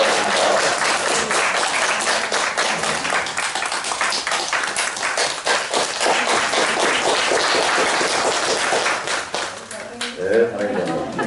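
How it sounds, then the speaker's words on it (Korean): A congregation at a Seventh-day Adventist church claps together for a deacon ordination family as flowers are presented. The applause is dense and steady for about nine seconds, then tapers off under scattered voices. "박수 한번 합시다."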